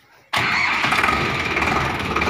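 A 2020 Preet 6049 tractor with a self-starter fires up abruptly after a brief quiet, and its diesel engine settles at once into a loud, steady, close idle.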